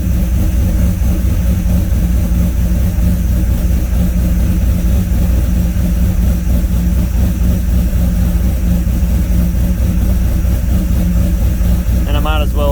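A supercharged LSA 5.3 V8 in a C10 truck on air ride idles with a loud, steady low drone throughout, and a faint voice is heard briefly near the end.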